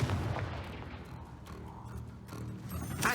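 A fiery Confringo spell blast in the PC game Hogwarts Legacy, a muffled booming burst with crackling impacts and rumbling tails layered over busy combat sounds.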